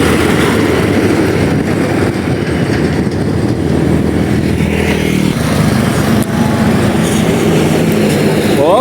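A Mitsubishi Canter HDX truck with a 125 PS engine revs hard while climbing a steep uphill road, a loud, continuous, close engine drone that holds steady throughout.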